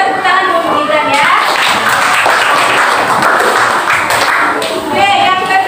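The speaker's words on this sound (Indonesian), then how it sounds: "Ya tepuk tangan dulu Gibran ya." Classroom of students clapping for a classmate named Gibran after an answer in a science lesson, loud close rhythmic hand claps throughout with children's voices and chatter mixed in.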